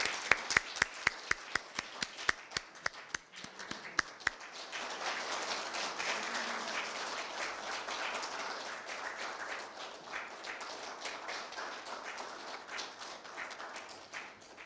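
A crowd at a Korea University law school ceremony bursts into sustained applause, a few sharp claps at first swelling into dense, steady clapping that continues loudly to the end.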